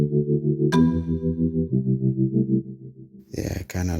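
A Triton Mondo Rimba marimba preset plays sustained chords in a beat production session. The harmonic chord tones change several times, and a brighter attack cuts in partway through, with a short effected burst near the end.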